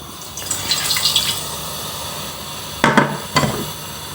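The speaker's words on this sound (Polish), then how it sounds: "Wlewamy wodę." Water is poured into a pot, splashing in two short bursts near the end, after a quiet stretch with faint clinking early on.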